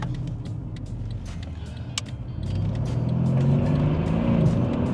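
An older Mercedes CLS car accelerates hard, its engine noise rising from a steady hum into a louder, deeper, building roar heard from inside.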